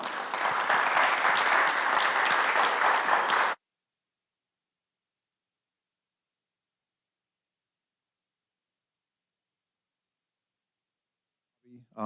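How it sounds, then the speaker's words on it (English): Audience applause for a guest speaker at a talk, a few seconds of dense crowd clapping that cuts off abruptly into silence, with a faint voice at the very end. "So let's give Jonny a round, and then also Elmer and Marianne another round of applause for making this possible."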